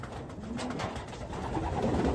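Racing pigeons cooing softly in a loft, low murmuring calls over a steady background hum, no talking.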